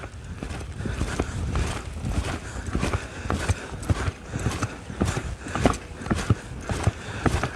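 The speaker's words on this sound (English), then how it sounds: "Come around, I'll do another transition to a trot in front of you." A trained former reining horse moving through a transition into a trot, its hooves striking in a steady, close, fairly loud rhythm of clip-clops on firm ground, with no talking.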